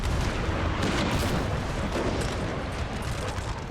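Artillery cannon fire in the Napoleon Total War video game, a dense continuous rumble of booming shots at steady loudness through the whole short stretch, with no talking.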